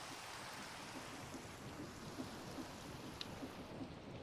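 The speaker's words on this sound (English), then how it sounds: "Oh, rain!" Steady rain and rolling thunder in the Minecraft video game, a constant dense hiss with soft low rumbles underneath, even and unbroken, with no talking.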